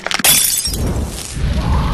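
A thrown gas lamp smashes on impact with a sharp, bright burst of breaking glass, followed by a short scatter of fragments and a low, noisy tail.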